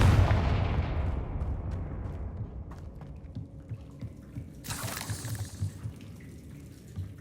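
A Confringo fire spell blast in the Hogwarts Legacy video game: a loud booming burst up front decays into a rumbling tail, with a second crackling hiss flaring midway.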